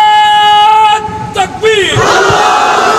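A crowd of men at a Bengali Islamic sermon shouts an answer together in a loud, near roar, entering mid-clip after a tonal, sung voice.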